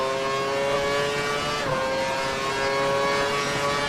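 Formula One race car in the F1 2012 video game accelerating, a steady high-pitched engine whine holding at full throttle with a brief gear-change dip midway, loud and close.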